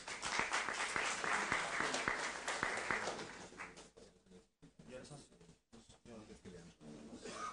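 Applause from a small meeting audience welcoming the cash auditors fills the first few seconds, then thins out into scattered claps and nearby voices.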